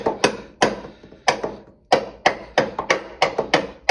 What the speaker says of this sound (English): I'm just going to take a rubber mallet and just tap it in.